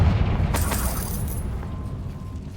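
A Confringo blasting spell explodes in Hogwarts Legacy with a loud, close burst that rolls into a rumbling, fading roar with a crackle of debris.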